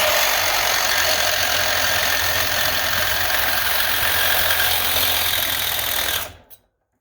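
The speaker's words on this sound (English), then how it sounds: "We're just going to make a cut real quick and show you how it works." Milwaukee Sawzall reciprocating saw with a metal blade, run on a 5-amp battery and cutting through metal plate: a loud, continuous buzzing grind close up that cuts off abruptly near the end.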